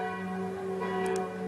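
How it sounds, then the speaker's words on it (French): A church bell ringing in a village, a sustained loud resonant tone with strong humming overtones that fill the whole short stretch. "la cloche, comme vous l'entendez, est en train de sonner"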